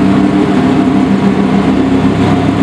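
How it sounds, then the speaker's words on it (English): A Sheepy Race twin-turbo V10 Lamborghini Huracán runs at a steady, loud, even drone, a constant engine tone with no change in pitch and no talking. "Sheepy Race twin turbo V10 Huracan"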